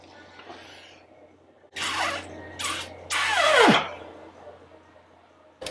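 Water gushes in short broadband bursts into the pipe of a Ford Escort RS Cosworth's coolant header tank during restoration, with a final surge ending in a falling gurgling tone, then quiet.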